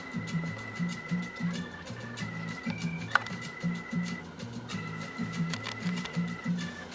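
A 1930s GE Model A sewing machine stitches steadily with a fast, even mechanical chatter and hum, close and continuous, with a brief click partway through.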